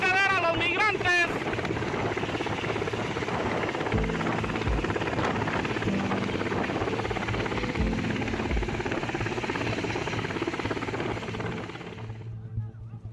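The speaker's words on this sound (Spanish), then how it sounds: "El objetivo del helicóptero es tirar viento para abajo y hacer retroceder a los migrantes." A helicopter hovers low over a caravan of migrants, its rotor roaring loud and close in a steady thrumming wash with wind buffeting the microphone, before it fades toward the end.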